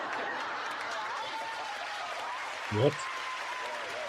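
An audience applauds on a 1984 game show pilot, a steady, even wash of clapping that carries through the whole stretch while voices talk over it.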